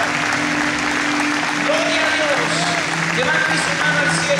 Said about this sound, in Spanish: Recibimos la palabra de Dios con un fuerte aplauso.